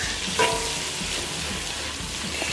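Four tablespoons of butter with half a cup of flour cook into a roux in a pan over medium-low heat, giving off a steady, close, even sizzle with a brief stir scrape.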